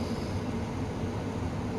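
A passenger train in Train Sim World on the East Coastway line, bound for Seaford, rumbles steadily as it departs, a continuous low mechanical drone with broadband noise and no talk.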